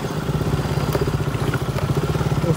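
Motorcycle engine thrumming in a steady, pulsing rhythm up close, with rattles and clatter over the running motor and no talk.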